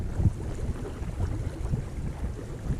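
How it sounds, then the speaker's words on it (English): Steady low wind rumble buffeting the microphone on a windy lakeshore in snow, with a constant roar and no voices. "Because it's really windy."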